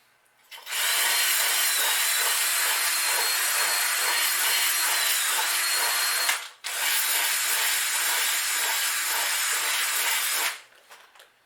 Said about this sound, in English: it's got these little balls, sandpaper balls on the end of the wires here, and it cleans off any sharp edges